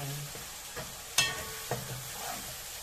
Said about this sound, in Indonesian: Bumbunya digoreng dulu, nggak langu teman-teman.